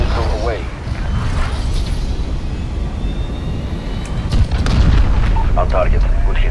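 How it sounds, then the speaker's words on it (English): A cruise missile strike in Call of Duty Modern Warfare rumbles as a loud, sustained low boom with a roaring engine-like wash, swelling toward the end, with game radio chatter faintly overhead. "Cruise missile away."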